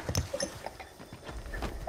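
Footsteps in the video game Predator: Hunting Grounds, several quick, irregular thuds and clops close by, mixed with scattered small game sounds at low level.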